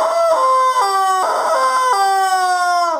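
A rooster crows loud and close in a single long cock-a-doodle-doo, stepping through several drawn-out pitched phrases before trailing off, with no talk.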